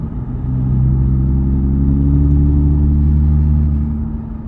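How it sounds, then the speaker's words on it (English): A supercharged Audi accelerates with a loud, close engine drone that rises through the gear, then dips slightly as the shift comes, steady and alone without talk. "Here's our next gear shift."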